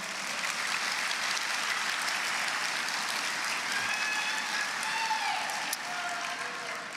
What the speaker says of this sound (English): Let's give a big round of applause to my fellow legislators who showed up for us today.